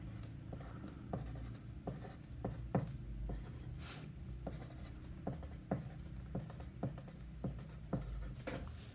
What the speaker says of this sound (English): We're going to do this and then write passphrase here